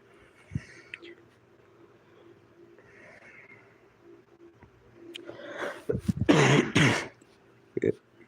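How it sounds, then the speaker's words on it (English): Someone clears their throat and coughs a few times nearby, the hoarse rasping building to a loud burst near the end amid faint room noise. "my coughs right there"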